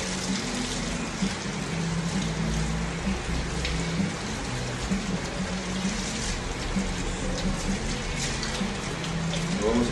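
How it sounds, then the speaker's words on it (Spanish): Water pours and splashes steadily at close range while a small white dog is rinsed during a bath at home after shampooing, a constant running wash with no talk over it. "Ya que ya el agua está lista, lo enjuagamos bien."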